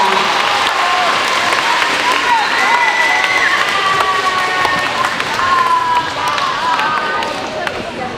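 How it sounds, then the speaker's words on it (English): Sustained audience applause fills a school awards ceremony at Orting Middle School, a dense, loud patter of many hands clapping with scattered cheers and bits of crowd noise throughout. "Let's give a round of applause to all of our amazing"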